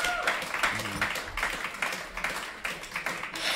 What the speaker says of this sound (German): Ein Applaus für Jurassica Parker mit dem Rinnsal.